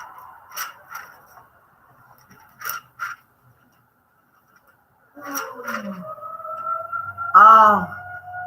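A civil defense siren sounding its monthly test in the early afternoon, a steady wailing tone rising and holding over the last few seconds, with scattered clicks and brief voices earlier.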